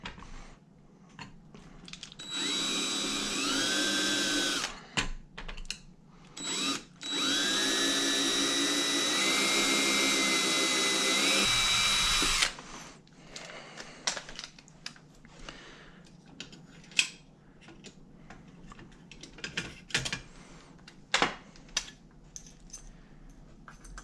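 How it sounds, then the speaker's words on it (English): A small drill bit boring into tough stainless steel, two loud whining bursts of a few seconds each with a rising pitch, followed by scattered clicks and handling noises. "anybody that's drilled stainless before knows that stainless is pretty tough stuff, and it's good to start with a small bit"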